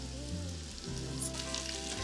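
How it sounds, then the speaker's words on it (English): Breaded turkey breast pieces fry in hot oil, giving a continuous dense sizzle with a low background hum throughout, no voices. "Sizzling beautifully."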